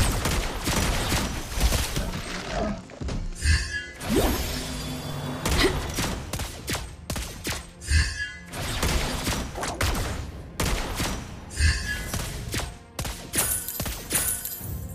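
Sniper shots from the hero Lesley in the mobile game Mobile Legends crack out in bursts amid whooshes, impacts and shattering game effects, dense and busy throughout with no clear talk.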